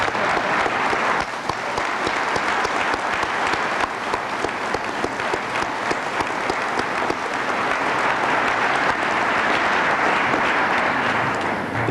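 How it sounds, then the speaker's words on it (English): Sustained applause from a graduation-ceremony audience at an Indiana State Police recruit class, dense steady clapping filling the hall at full strength from start to finish with no speech over it. "Please give them a round of applause for everyone in the class"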